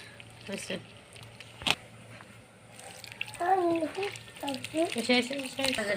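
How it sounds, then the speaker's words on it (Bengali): Water is poured little by little into wheat flour to knead dough for ghee-fried paratha in a village kitchen in Bangladesh, with soft trickling and splashing near the mic; a voice talks over the second half. "অল্প অল্প পানি দিতেছি, দিয়ে দিয়ে আটাটা গুলবো।"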